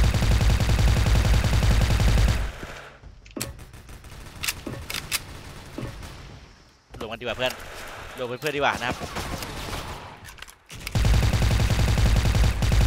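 A silenced wooden AK rifle fires in the online shooter SF. The shots are sharp and scattered, heard under someone talking, with loud music playing at the start and end.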